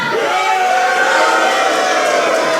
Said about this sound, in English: this crowd absolutely letting Basham know what they think of him